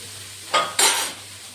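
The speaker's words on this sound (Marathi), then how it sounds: "आणि याला पण आता जे आहे त्याचं परतून घ्यायचं." Chickpea greens are tossed in a pan with two quick scraping strokes of a spatula in close succession, each a brief rasp that fades into quiet room noise.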